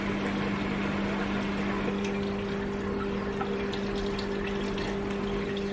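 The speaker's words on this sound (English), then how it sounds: "we fill the vial with 2 milliliters of water from our aquarium" Aquarium water pours into a small test vial for a potassium test, a steady continuous trickle with a constant hum underneath, fairly close and with no talk.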